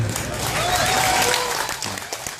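Steady applause from an audience at an Islamic religious lecture in Taichung, Taiwan, a dense wash of clapping that holds throughout and eases slightly toward the end.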